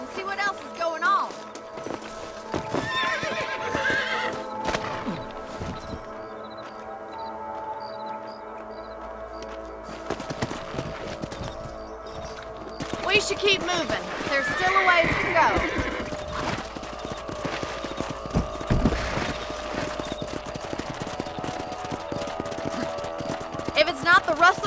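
Horses in the Red Dead Redemption video game snort and whinny while hooves clip-clop along at a steady trot, with game music and a voice speaking over the riding sounds.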